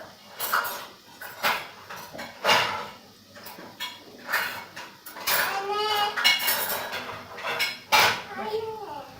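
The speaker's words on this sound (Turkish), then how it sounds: "Bulaşık makinesini boşaltmamıştım." Dishes and cutlery clattering as a dishwasher is unloaded in a home kitchen, with a series of sharp clinks and clanks close by at an uneven rhythm and brief bits of voices in between.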